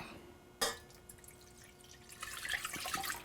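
A sharp clink, then three-quarters of a cup of water splashes and trickles into a bowl, growing steadily louder over a few seconds; no talking.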